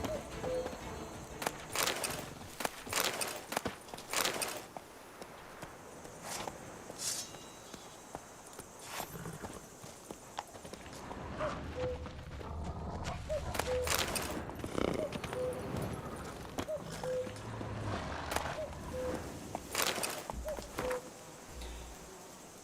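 Horse hooves clip-clop in The Witcher 3, a series of faint, spaced thuds over quiet ambient game sound with occasional insect and bird noise.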